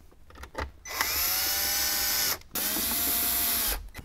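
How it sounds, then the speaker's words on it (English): A power screwdriver driving screws into a car stereo screen during an Alpine iLX-F509/F511 install in a Jeep Wrangler JK, two close, loud whirring runs of steady motor whine separated by a short pause. "let's go ahead and install the other screws into the screen"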